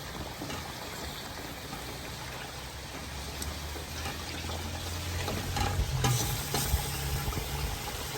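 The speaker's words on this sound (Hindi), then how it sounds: "हमारा कोरमा अच्छे तरीके से भून रहा है" Badami korma sizzles and fries steadily in a pan over lowered flame, a continuous soft crackle with occasional stirring scrapes, growing slightly louder toward the end; no one speaks.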